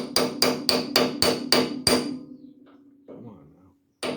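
A hammer taps a socket to drive a grease-packed wheel bearing into the disc brake hub of a 1951 Chevy truck: seven quick, ringing metallic strikes in a steady rhythm, close and loud, followed by a pause and one final hit.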